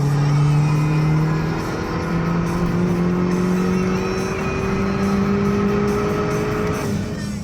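A tuned BMW 1 Series F20 114i with a Stage 3 tune pulls hard in second gear, its engine drone rising steadily and loud from inside the car, with no talking.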